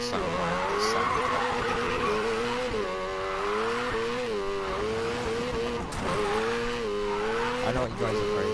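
A car engine revs up and down in waves while tires squeal and skid, with a voice talking over it.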